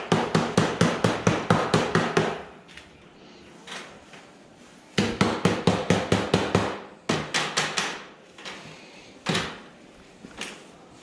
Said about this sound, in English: I'm just gonna mallet it down or hammer it down.